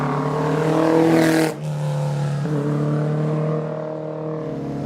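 A Porsche 718 engine revs high and steady toward 7,000 rpm, dips briefly, then keeps droning at a strong pitch, close and loud with no voices.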